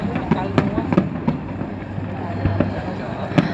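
Weeping willow fireworks go off at the Da Nang international fireworks festival, the Vietnamese host team's show, as a series of distant crackling bursts and thumps spread over a constant crowd murmur.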